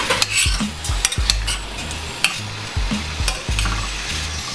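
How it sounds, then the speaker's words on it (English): Shrimp, peppers, onions and tomatoes are stirred in a pan with salt, producing loud repeated utensil knocks and scrapes against the pan over a low sizzle, in an irregular stirring rhythm without talk. "add a little bit more salt. And I'll mix that in there"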